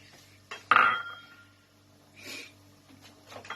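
A metal utensil knocks and scrapes against a pan while liver and gizzard adobo simmers in soy sauce and vinegar; a couple of brief, close clinks stand out over quiet background sizzle.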